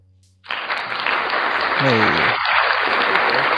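A sudden, loud burst of applause starts after a brief quiet moment and holds steady as a dense wash of clapping. A voice calls out briefly partway through.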